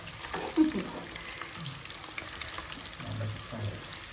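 Eggs fry in a pan while a prawn and egg curry is cooked, giving a soft, steady, quiet sizzle with light crackles and an occasional stir. A faint voice sits in the background.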